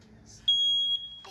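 A single sustained high-pitched smoke alarm beep lasting about half a second, with faint background noise before and after.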